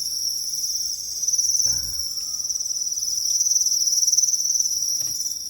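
Crickets in a breeding box with banana stem pieces for water, a dense continuous high-pitched chirring that holds steady throughout, close and fairly loud, with a couple of faint knocks in the background.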